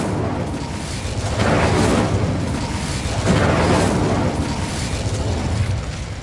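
The Incendio fire spell in Hogwarts Legacy roars as loud booming whooshes that swell twice over a continuous rushing rumble, with no talking.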